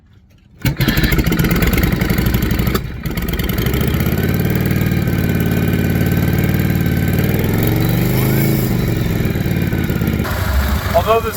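A Harley Shovelhead motorcycle engine with a slightly leaking carburetor starts after a short quiet moment, then runs at a steady, loud, close idle for about ten seconds with a brief dip near the three-second mark.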